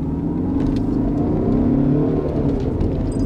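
A Renault Avantime car accelerating from 0 to 100 km/h on a road: a loud, continuous engine drone with road and wind roar, heard from inside the car, with no talking.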